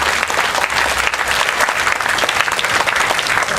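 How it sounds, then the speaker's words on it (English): Loud, dense crowd applause at an outdoor Singapore protest against the 6.9 million population white paper, continuous clapping from many hands without any speech. "Let's give them a clap."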